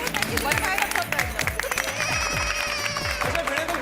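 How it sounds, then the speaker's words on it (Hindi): Applause and crowd noise for Jetha uncle, praised for serving ice cream, with clapping and lively hubbub running throughout under a busy, dense background with music-like tones. "इतनी बढ़िया आइसक्रीम खिलाने के लिए जेठा अंकल के लिए जोरदार तालियां।"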